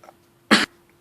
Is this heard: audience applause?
no